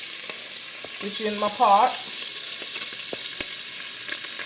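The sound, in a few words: meat sizzling in a pot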